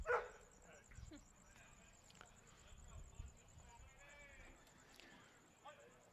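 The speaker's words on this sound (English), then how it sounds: "Got a little pup over here making some noise" A small dog yaps a few times in the distance at an amateur baseball game, beneath a steady hum of a crowd and someone talking.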